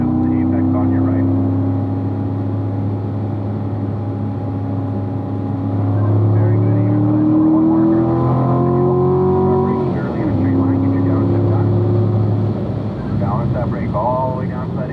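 Race car accelerating out of a turn on a track during a racing school run, a loud sustained engine whine that climbs in pitch, dips and climbs again, with an instructor talking throughout.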